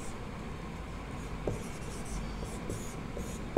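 Marker or chalk writing on a board during a Hindi-language psychology class, a steady scratchy rubbing with a few small taps as strokes start and stop, close and fairly loud over a low room murmur.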